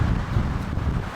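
Strong wind gusting over a mountain during early-season splitboarding, roaring steadily and loudly across the microphone with dense low buffeting and no voices.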